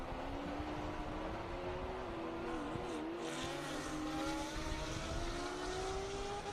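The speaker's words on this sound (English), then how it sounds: "I love hearing this car going down the front straight because it sounds like nothing you would expect it to sound like." An LS-swapped Porsche race car screams down the front straight at Circuit of the Americas, a steady loud engine drone with a rising pitch as it accelerates past, continuous and close throughout.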